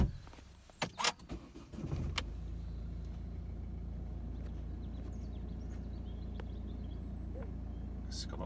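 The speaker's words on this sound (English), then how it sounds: "And we'll just start the car now." A Volvo V40 Cross Country D2 with a 1.6 diesel engine starts after a few clunks and clicks, then settles into a low, steady idle rumble that continues close by without talk.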